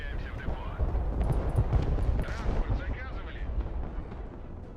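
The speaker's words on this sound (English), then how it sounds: "that is lots of mortars being hit on there" Mortar shells striking in the Broken Arrow multiplayer war game, a dense run of overlapping booms and crackling impacts that rumble continuously through the stretch, with battlefield noise layered over a low roar.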